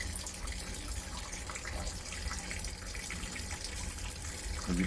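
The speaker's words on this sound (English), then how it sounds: "water is now falling from barrel A into barrel B, and this barrel will fill up" Water siphoned from one barrel falls into a second barrel during a large aquarium water change, making a continuous steady splashing rush like a running tap, close and unbroken.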